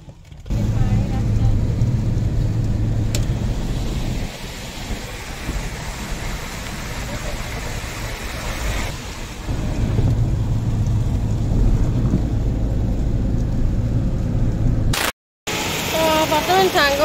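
Heavy monsoon rain pouring in an Odisha town during the Rathayatra festival, a loud continuous roar with a thunder-like rumble, and people talking over it.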